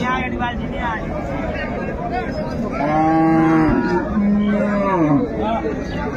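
Cows and calves at a rural cattle market in Ranigonj, Dinajpur, with a long, loud low moo midway and a fainter moo near the end, over steady crowd chatter and nearby talk.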